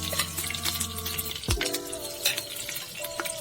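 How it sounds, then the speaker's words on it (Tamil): Ghee is poured into a pressure cooker for mutton biryani, a soft close liquid trickle with small drips and a brief clunk against quiet kitchen background. "இப்ப நம்ம நெய் ஊத்துறோம்."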